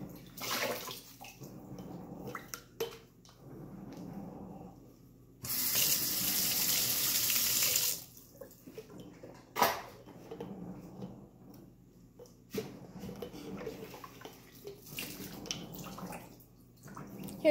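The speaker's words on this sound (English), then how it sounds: "Can we finish doing those dishes?" Water runs from a kitchen tap into the sink during dishwashing, in intermittent splashes and one steady two-second gush, with clinks of dishes and brief bits of nearby talk in between.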